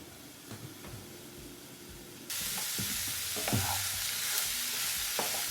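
Cauliflower rice frying in a pan for a keto casserole: a quiet stir and scrape that jumps into a loud, steady hiss of sizzling, with utensil knocks and scraping over it.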